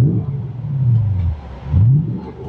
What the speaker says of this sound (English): I love the sound of this Borla exhaust